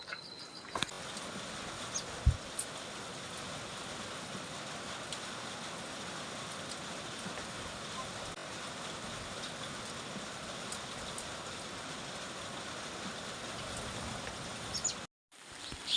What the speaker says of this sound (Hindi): और लगातार बारिश है